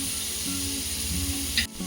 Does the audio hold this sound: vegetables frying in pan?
yes